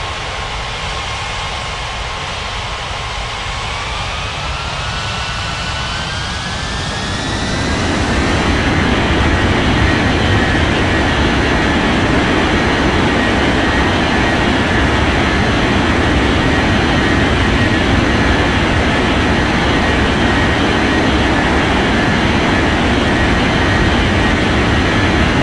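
A China Southern jet takes off from runway 27 at Bali airport, its engines swelling from a steady whine into a loud, sustained roar that holds for the rest of the clip.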